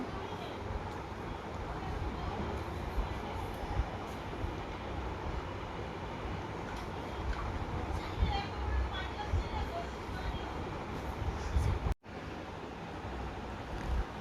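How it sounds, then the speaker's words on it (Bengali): Steady loud rumble of a train arriving at a station on the way to Hajiganj, with continuous rolling noise and a brief cut near the end; a voice talks over it. "এই যে এখানে ট্রেন চলে আসছে"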